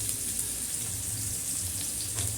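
Onions fry for poha in a pan, giving a steady, close sizzle with a bright hiss that runs unbroken and evenly loud throughout, no voices over it.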